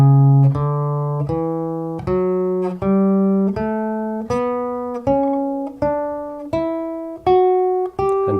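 Guitar picking an A Mixolydian mode scale one note at a time, about a dozen clear plucked notes climbing steadily in pitch at an even, unhurried pace, each ringing briefly before the next.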